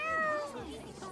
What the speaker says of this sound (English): Hey, look at Kitty Cat.